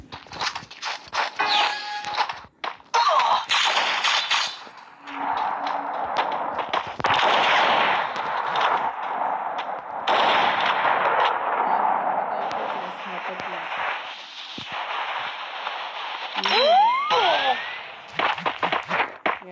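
Gunfire in the mobile battle-royale game Free Fire, sharp metallic shots and clanking weapon mechanisms in bursts and single cracks, loud and close, mixed with game effects and someone talking over the action.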